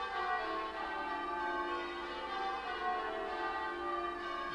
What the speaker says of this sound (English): This is a loud clanging bell.